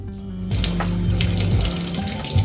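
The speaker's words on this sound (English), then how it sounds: "I added a little water to the cup and shook it a little to get all of the remaining dye out of it." Tap water pours into a cup holding leftover dye for a drop cloth dyeing bath, a near, steady running splash after a quiet start.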